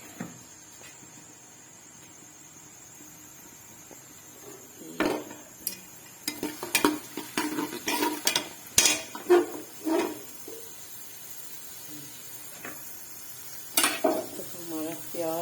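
Sliced onions tipped into lightly heated ghee in a pot for Lahori paya, followed by a run of clattering spoon scrapes and metal knocks against the pan, loud and close, then a quieter pause and a few more stirs near the end.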